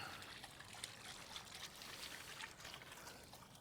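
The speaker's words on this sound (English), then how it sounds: "So that water is actually draining out from the inside of the boat." Faint, steady trickle of water draining out from inside a boat, a soft continuous splashing with no voices.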